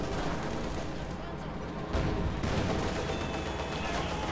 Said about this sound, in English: More shots fired there.